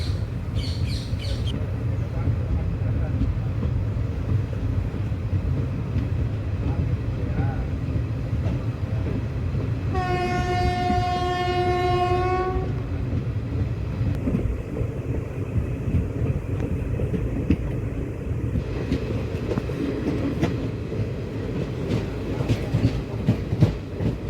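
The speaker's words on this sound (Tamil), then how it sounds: "இதுவும் வந்து மெயின் லைன் வழியாக தான் வந்துட்டு இந்த ட்ரெயினும் போயிட்டுருக்கு." A Tiruchendur–Chidambaram festival special passenger train runs along the main line with a steady rumble and rolling clatter throughout, a long tonal horn blast partway through, and faint bird chirps in the background.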